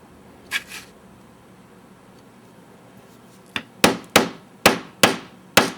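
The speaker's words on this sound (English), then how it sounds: "So I go around and put my chisel right where each line is." A hammer drives a chisel into a remade stamping tool: a few faint early taps, then six sharp, loud metallic strikes at a steady, evenly spaced rhythm, close up.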